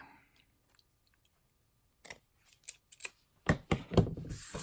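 Paper being trimmed for a handmade book, with a run of short crisp cutting and snipping sounds close by, starting after a quiet pause and growing denser and louder toward the end.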